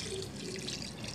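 A cup of water is poured into mutton while cooking, a steady close hiss of running water that continues unbroken throughout.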